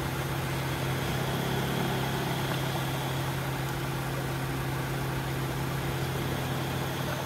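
A Honda engine idles steadily with a constant low hum and broadband mechanical noise while the alternator's control connector is unplugged and replugged, the idle shifting slightly; nearby, continuous, with no talk.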